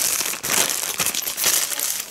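Continuous crinkling of a thin plastic bag being handled, dense rustling with small crackles, close and fairly loud.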